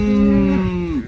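A single cow moo, loud and close, a sustained low tone that dips at the end.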